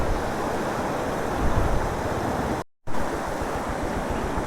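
River water rushes loudly and steadily beside a gravel road on a mountain route with waterfalls, a broad continuous roar broken by one brief cut-out.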